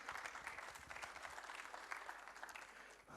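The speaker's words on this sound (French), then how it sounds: "venez nous rejoindre, on peut l'applaudir." Steady applause at a startup summit in Tunisia, greeting an ambassador: many hands clapping evenly and fairly distantly, heard alone without speech.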